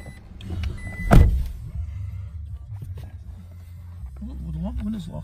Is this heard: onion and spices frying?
no